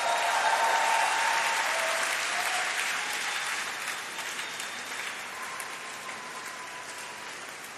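A graduation audience at a University of Birmingham College of Engineering and Physical Sciences ceremony breaks into sustained applause and cheering that fills a large hall, loud at first and then easing off slightly while continuing steadily, with no speech over it.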